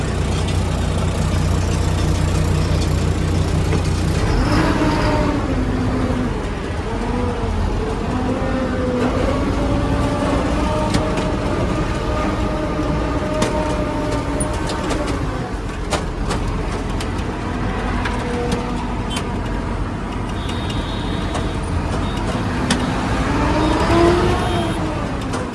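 A loaded truck rolls off at the start of a long-haul trip, its engine loud and near, with a low rumble and rising, shifting gear tones as it pulls away and keeps driving.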